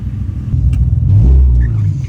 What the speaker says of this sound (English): it's idling good, it's not sputtering or anything like that